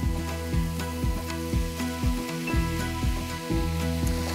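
Char siu pork belly sizzles on a hot griddle pan with a steady, close crackle and hiss. A regular rhythmic thumping pulse runs underneath it, and nobody speaks.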